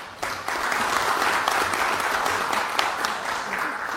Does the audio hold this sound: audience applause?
yes